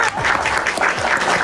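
A crowd claps together at a religious discussion held over a loudspeaker, a short burst of dense applause with voices mixed in.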